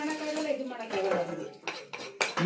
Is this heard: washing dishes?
yes